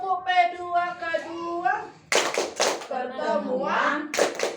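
Women in a group chant together in Indonesian, breaking into sharp bursts of rhythmic clapping between sung and spoken lines of a P2K2 family-meeting clap chant, the voices loud and close throughout.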